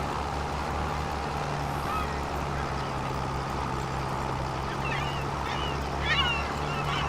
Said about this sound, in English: are the seagull noises too loud